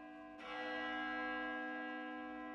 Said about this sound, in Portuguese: E a 12ª badalada da meia-noite soou.